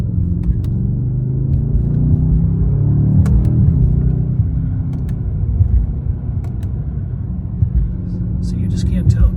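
A 2018 Mercedes S63 Bi-Turbo V8 cruising on a road at moderate speed, with a steady low engine and tyre rumble throughout and a few sharp clicks over it.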